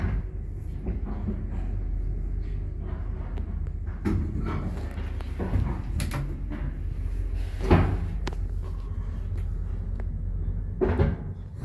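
A lift in a Mysłowice apartment block, fitted with new wardrobe-like doors, gives off a low steady hum broken by several soft clunks and knocks of doors and machinery, recorded close and fairly quiet.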